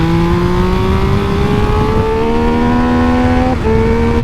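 A Triumph Speed Triple RX motorcycle engine revs hard while riding, its pitch climbing steadily, then dipping briefly on a gear change before rising again. The roar is loud, close and continuous, with no talk.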